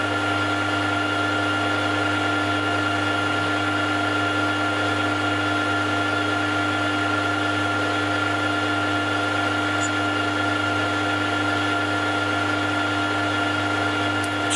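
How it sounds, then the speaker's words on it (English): A drill turning a tap as it cuts a thread into metal gives a steady, loud mechanical whir with a constant motor hum and grinding, running unbroken throughout with no talk. "It's just starting to cut the thread and pull itself in."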